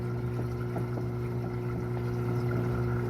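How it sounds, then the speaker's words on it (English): An aquarium pump gives a steady low hum while overflow water trickles and gurgles softly, continuous and close by. "what you're hearing is the overflow"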